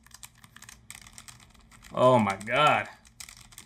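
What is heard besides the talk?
typing on a new NZXT metal keyboard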